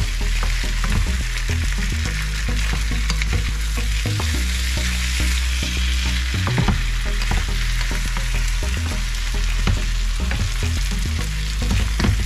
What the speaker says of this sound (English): Just smother the liver with the onions.